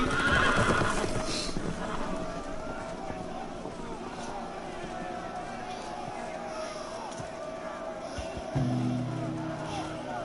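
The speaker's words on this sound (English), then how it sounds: "The horses! They're loose!" Horses whinny and hooves clatter amid a busy, layered Game of Thrones Telltale video game soundscape, with voices talking over the top throughout.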